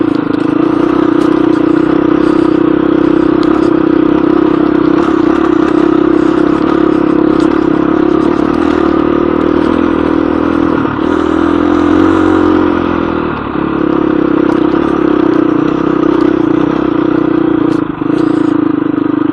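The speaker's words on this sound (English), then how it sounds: "I'm just going to chug up this hill. Because my bike likes to chug." A motorcycle engine chugs up a hill at low revs, a loud, steady droning rumble with a slight dip in pitch partway through, close to the mic with some wind and rattle noise over it.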